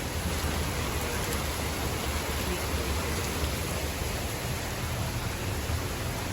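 Steady rain falling outdoors, a constant even hiss of drops with no voices, moderately quiet and unbroken throughout.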